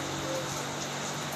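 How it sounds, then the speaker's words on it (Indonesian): Steady rain falls outdoors in the morning, a dense, even patter that continues unbroken through the whole short stretch with no voices. "ini suaranya agak berisik karena hujan"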